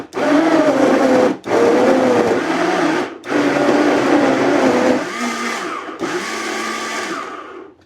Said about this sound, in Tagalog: Ang ingay pala ng electric fan natin.